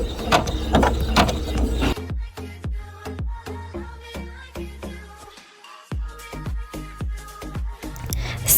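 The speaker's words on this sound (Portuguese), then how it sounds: "Vamos voltar para a máquina e ela vai fazer uma marcação segurando tudo isso." An embroidery machine stitches a tack-down outline over fabric held with strips of masking tape, producing rapid rhythmic mechanical clicking and ratcheting pulses at close range, with a louder whirring burst at the start and a brief lull midway.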